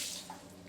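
Water is poured out of a reverse-osmosis filter canister into a sink, a brief splash and trickle that fades to a quiet drip-like wash, close by and fairly soft.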